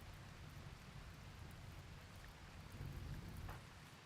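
Steady rain falls in the video game Rimworld: a continuous, soft hiss of rain on surfaces with a faint low rumble underneath, no voices.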